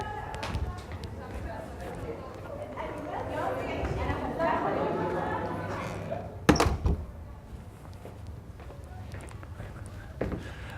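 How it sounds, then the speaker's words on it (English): A door swinging shut with a sharp thump partway through, set against a lecture hall's background murmur and room noise, with a second softer knock after. "Let me close the door."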